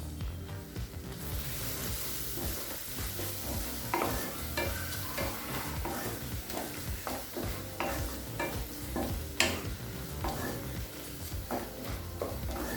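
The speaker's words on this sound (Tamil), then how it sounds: "ஒரு நிமிஷம் வரைக்கும் நல்லா வதக்கிக்கலாங்க." Tomatoes with turmeric, chili powder and coriander powder are stirred and sautéed in a pan, giving a steady sizzle with frequent scraping strokes of a spoon throughout.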